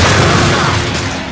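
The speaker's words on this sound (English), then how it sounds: "Major explosions going on here" A heavy, continuous rumble of booming blasts fills the whole moment, loud and close, with no clear gaps between the explosions.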